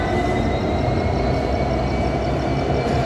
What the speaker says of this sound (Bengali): সামনে যে ইঞ্জিনটুকু ঘুরে প্ল্যাটফর্ম থেকে ঘুরে আবার এটা সামনে এসে যায়।